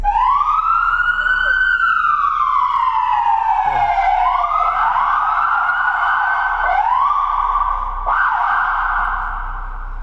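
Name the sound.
police car siren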